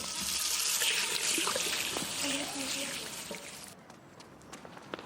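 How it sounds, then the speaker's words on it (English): A tap runs steadily as boys wash their hands in a restroom, a continuous splashing hiss for under four seconds before it cuts off, with faint voices murmuring underneath. "The boys glanced at each other and dashed to the restroom to wash their hands."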